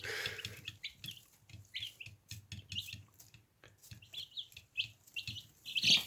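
Several Dominant Mix chicks in their first days of life chirp in quick, high peeps that overlap steadily and close by, over soft repeated low thumps.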